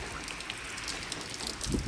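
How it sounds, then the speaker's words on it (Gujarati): Heavy unseasonal rain in Modasa, Arvalli, with lots of water running off, a steady broadband hiss of downpour and flowing water that swells slightly louder near the end, with no talking. "કેટલું બધું પાણી જાય છે"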